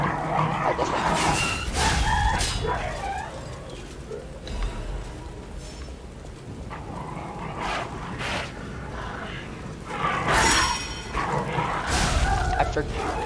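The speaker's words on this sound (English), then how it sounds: "I feel like fighting that dog." A dog in the video game Lies of P barks and whimpers in scattered bursts, some loud and close, over a steady game soundscape, with a person talking at times.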